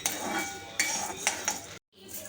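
A utensil stirring lentils and dried red chillies as they roast in a pan, with scraping and clinks against the metal, three sharper knocks, then a short silent gap near the end.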